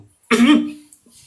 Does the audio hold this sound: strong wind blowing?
no